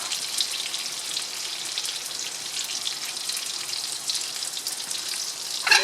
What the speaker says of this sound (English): let that saute with the onion.